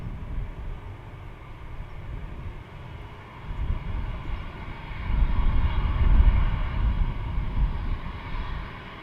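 An aircraft arriving at Dublin Airport, a distant jet roar that swells louder midway and lingers as a broad rumble.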